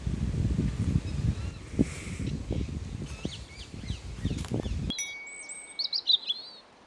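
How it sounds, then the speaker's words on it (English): A Eurasian jay, a member of the crow family, calls in the UK countryside. Low rumbling noise comes first, then a short run of clear, fairly close calls follows alone. "So over here we have a jay, part of the crow family."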